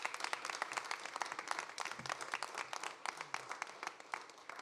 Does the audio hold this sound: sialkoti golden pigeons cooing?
no